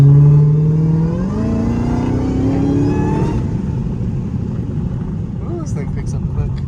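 A Dodge Hellcat 300 accelerates hard at full throttle, its engine note climbing loud and close in an engine-mounted view, then dropping into a lower rumble with road noise.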